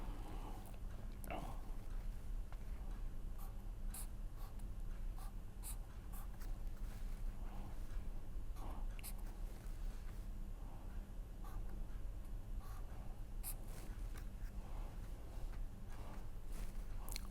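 A pen writes on paper while a chemical structure is drawn, faint scratchy strokes and light taps in an irregular rhythm over a quiet room hum, with a voice speaking at times.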